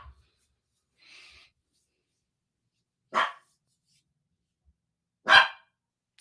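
A dog outside a small home studio barks a few times, sharp single barks spaced seconds apart and heard through walls at a moderate distance.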